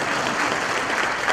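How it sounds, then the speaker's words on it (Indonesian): Dense applause from a live comedy show audience, a continuous wash of many hands clapping at once, steady and fairly loud without pauses or voices. "Makanya kalau dia boleh tepuk tangan buat beliau."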